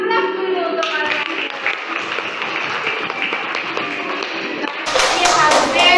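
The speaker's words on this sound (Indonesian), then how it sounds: "Aplaus dulu untuk kalian." A class of children bursts into short, quick clapping near the end, following a stretch of a teacher's voice and classroom murmur.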